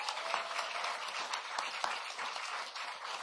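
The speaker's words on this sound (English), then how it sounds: "You can give yourselves a round of applause." A crowd at a student debt relief event in New Mexico applauds continuously, dense clapping at a steady moderate level throughout with no voices on top.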